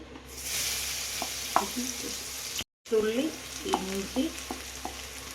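Crushed ginger and green chilies frying in hot oil for beef pickle, making a continuous sizzle with scraping stirs and clinks of a utensil against the pan, briefly cut off midway, with no talking.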